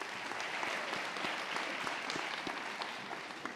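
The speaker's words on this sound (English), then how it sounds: "Let's give her a round of applause as she comes over." An audience at a spring university convocation ceremony claps steadily, a dense, even patter of applause at moderate volume that tapers slightly at the end.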